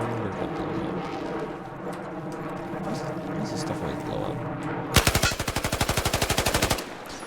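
A long machine gun burst of about two seconds erupts near the end of a Battlefield 4 match, its rapid even shots standing loud above the game's muffled background noise.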